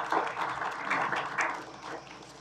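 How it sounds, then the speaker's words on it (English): A council chambers audience gives a round of applause for interns, a moderate, diffuse patter of clapping that gradually fades over a couple of seconds, with no speech over it. "I'd like to give you first a big round of applause"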